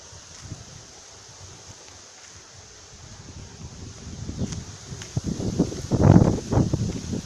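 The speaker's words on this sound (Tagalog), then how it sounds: "Grabe, ang lakas ng hangin dito" Strong outdoor wind buffets the microphone in rising gusts, building from a low rumble to heavy, irregular blasts near the end, with faint rustling underneath while walking in the Philippine countryside.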